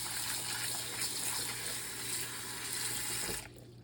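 Tap water gushes steadily over peeled hard-boiled eggs in a container, a loud continuous rushing splash that cuts off abruptly near the end.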